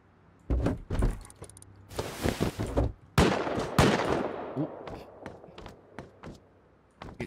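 An automated turret in a shooter video game fires at a player in loud, close bursts of rapid shots with short gaps between them, broken by sharp metallic clatters.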